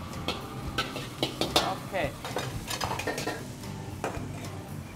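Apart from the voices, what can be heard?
pork being stir-fried in a wok over medium heat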